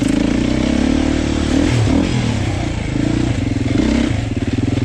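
A 2024 Beta 390 Race Edition dirt bike engine runs steadily and loud on a slippery wet trail, holding a continuous throttle drone with small revving swells and faint clatter throughout, with no talking.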